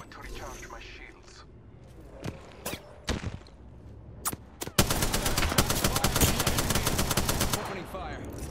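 Gunfire in Apex Legends: a few scattered single shots, then a sustained rapid automatic burst that rattles on loudly for about three seconds, with faint footsteps and mechanical clicks before it.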